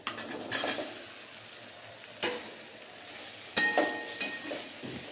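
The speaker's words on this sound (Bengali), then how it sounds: "এইবার এই তেলের মধ্যেই সয়াবিনটা দিয়ে দেবো" Soybean chunks fry in hot oil with a steady close sizzle, broken by several sharp clinks and scrapes of a utensil stirring in the pan.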